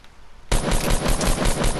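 Assault rifle fire in Fortnite erupts suddenly after a short quiet moment, a loud, close, continuous burst of rapid automatic shots.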